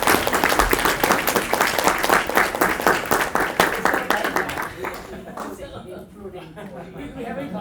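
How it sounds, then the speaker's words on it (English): A conference audience applauds with brisk, dense clapping that fades out after about five seconds, leaving quieter room noise and murmuring. "let's a round of applause for the organizers besides myself"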